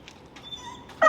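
A dog whimpers in short, high faint whines during a training session, ending in a louder yip-like burst at the close.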